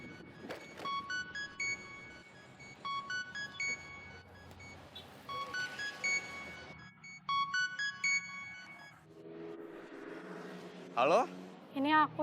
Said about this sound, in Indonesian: Mau nelpon Samsul